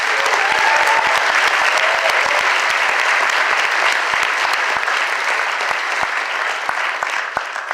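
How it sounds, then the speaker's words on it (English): Conference attendees at a Beta Gamma Sigma leadership summit give sustained, loud applause for the staff, a thick even roar of many hands with sharper individual claps standing out. "please, a big round of applause for the BGS staff"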